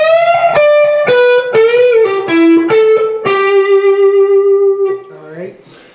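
Distorted electric guitar lick from a song: a run of separate picked notes steps downward, then one long note held with vibrato rings out, with a brief softer trailing sound at the end. The guitar plays alone.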